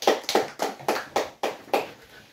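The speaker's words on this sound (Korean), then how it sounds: "하나님께 영광의 박수 올리겠습니다" Seven distinct hand claps from a small church congregation, evenly spaced and moderately close, fading after the last clap with faint background hiss.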